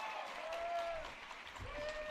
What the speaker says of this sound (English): That's the easiest cheer you will ever get out of a Sonic audience.